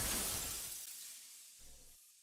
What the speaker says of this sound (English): It is the sound of glass breaking.